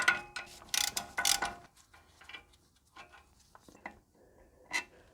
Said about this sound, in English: Then we can use a socket wrench to loosen them the rest of the way.